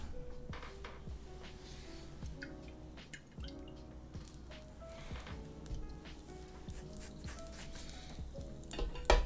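Carrots and capsicum stir-fry in a pan for a black pepper pork dish, a soft continuous sizzle with frequent clinks, scrapes and taps of utensils, faint and close, with no talking.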